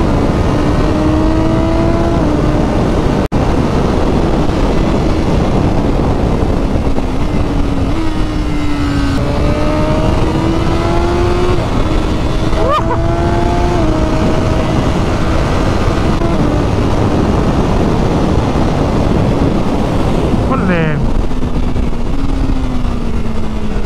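Motorcycle accelerating hard on a race circuit, engine note climbing through gears with brief dips at shifts, loud and continuous, another bike passing near the end.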